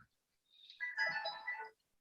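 A phone rings during a board of appeals meeting, a single electronic ringtone burst of about a second, moderately faint and heard alone in a quiet room.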